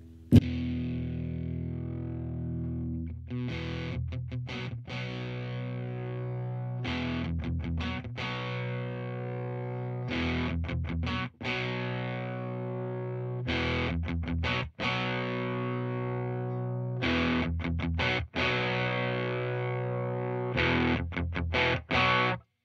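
An electric guitar runs through an Arion Metal Master distortion pedal, repeating a chugging riff with sustained ringing chords and brief gaps, steady and loud throughout.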